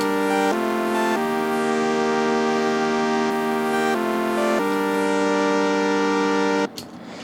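Sustained synthesizer chords change every second or so, with brighter accent notes on top, then the sound cuts off near the end.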